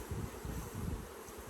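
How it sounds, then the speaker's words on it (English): Honey bees buzz in a dense, wavering drone during a hive inspection outdoors, close and fairly soft, with no voices. "Just dropped a bunch of bees everywhere"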